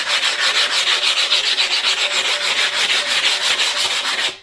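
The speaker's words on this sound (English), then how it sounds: "just sand it right off." A sanding pad rubs steadily across a wet concrete countertop edge in quick, even back-and-forth strokes. The hiss is continuous and close, with a fairly loud grinding texture and no voices.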